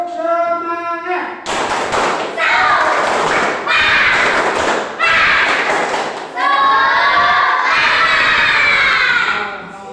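A classroom group, gathered for an Islamic lesson on zakat fitrah, claps in a rhythmic spirit cheer while shouting together. A lone voice calls out first, then the loud bursts of claps and shouts come in repeated phrases.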